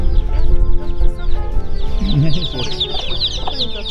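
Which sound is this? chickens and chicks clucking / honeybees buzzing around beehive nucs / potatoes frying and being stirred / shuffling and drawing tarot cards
chickens and chicks clucking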